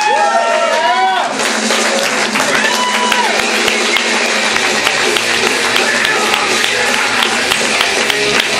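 Applause and cheering from a live comedy-club audience at Winston's in OB, dense steady clapping throughout with a voice speaking over the start.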